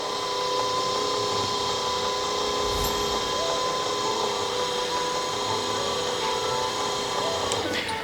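A Curbsider crane boom extends away from a vehicle bumper with a steady mechanical drone and motor whine that runs evenly through the whole stretch, close and moderately loud.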